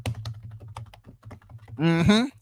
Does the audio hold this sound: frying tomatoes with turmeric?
no